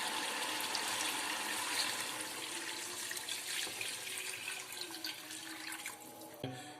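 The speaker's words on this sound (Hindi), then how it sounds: "अभी मैं ये 8 से 9 गिलास पानी अपनी निहारी के अंदर डालूँ।" Water pours steadily into a pot of chicken nihari, measured in by the glass, as a continuous, fairly soft splashing stream that ends with a brief clunk.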